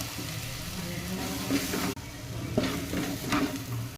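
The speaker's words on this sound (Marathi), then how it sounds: "आणि मटण मसाला मस्त भाजून घेऊया मसाला मस्त भाजून घ्यायचं बघा तेल सुटेपर्यंत" Mutton masala with dry spices roasting in oil for a Kolhapuri-style tambda and pandhra rassa, sizzling steadily with a few close scraping stirs and brief gaps in the frying hiss.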